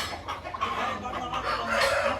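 Black Kakkira rooster and hen cluck close by, a rapid run of throaty, irregular clucks with a brief crowing note near the end.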